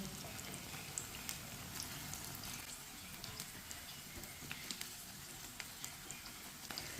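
Bread pakora fries in oil over a low flame, a soft, steady sizzle with scattered small pops and crackles, faint and close, no voices.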